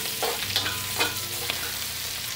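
Mapo tofu ingredients are stir-fried in a wok with dried chili powder as the heat is lowered, giving a steady sizzle broken by a few scraping spatula strokes. No voices are heard.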